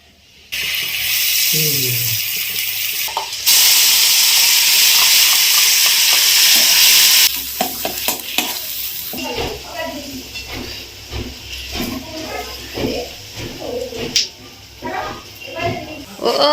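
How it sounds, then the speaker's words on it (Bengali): Spice paste stirred and fried in oil in a kadai: a loud hissing sizzle in bursts, with scraping stirs, then quieter frying under a voice talking for the rest of the time. "এটাকে কড়াতে তেল দিয়ে একটুখানি নাড়াচাড়া হবে"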